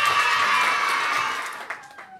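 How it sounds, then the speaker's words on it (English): A lively round of applause mixed with cheers from a young audience at a children's storytelling show, dense and loud at first, then thinning into scattered claps and trailing off. "Let's give a massive round of applause to Mary Prince."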